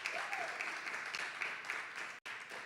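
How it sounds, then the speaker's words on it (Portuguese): A church congregation claps steadily in dense, moderately distant applause that breaks off briefly near the end. "Você pode dar uma salva de palmas para Jesus antes da gente começar aqui?"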